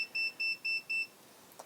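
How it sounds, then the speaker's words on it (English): Four short, evenly spaced high-pitched electronic beeps from a digital multimeter on a bench, clear and close, followed by quiet room tone. "That was another meter beeping at me."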